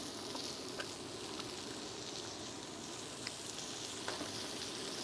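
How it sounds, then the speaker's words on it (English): A tuna steak seasoned with garlic salt and oil sizzles steadily on a Gaggenau teppanyaki cooktop, a continuous close hiss with faint pops and no talking. "Hear those sizzle up real fast"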